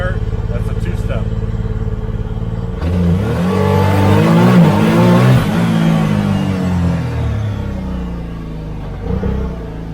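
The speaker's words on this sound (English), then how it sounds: "You hear that flutter? That flutter right there, that's a two-step." A Can-Am Maverick R engine idling, then fluttering loudly on its two-step launch limiter, with rapid choppy pulses swelling and fading near the mic while a voice talks over it.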